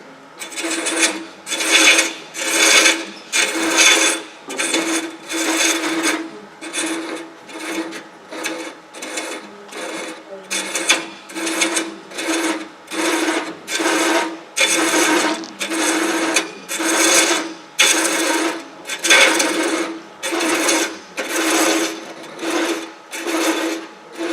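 A tool rechasing the threads on a workpiece makes a loud, even run of rasping strokes, each roughly half a second long, repeating steadily with short pauses between them.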